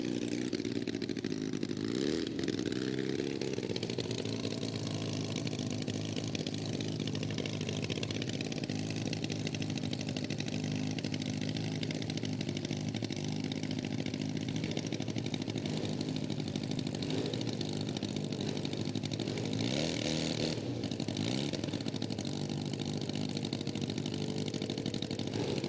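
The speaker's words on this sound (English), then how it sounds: "Dave Clee got fire again on the Puma Triumph." A Puma Triumph drag racing motorcycle engine running steadily at a drag strip, loud and continuous with rising and falling revs throughout.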